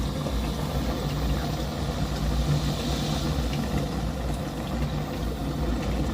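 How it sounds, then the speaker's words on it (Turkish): Burning gasoline vapor mixed with hydrogen gas from water produces a steady, moderately quiet roaring hiss of flame that holds constant throughout without talk. "Evet, şu anda yanan benzin gazı."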